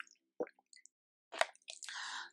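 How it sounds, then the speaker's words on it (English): Water being drunk close to the mic, with a few small wet sips and squishy swallowing noises separated by short silences, and no talking over them. "let me get some water here"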